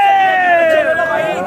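Crowd hubbub at a new-potato auction in the Multan vegetable market, with a steady, close wash of overlapping voices and a prominent sustained tonal call running through the whole stretch.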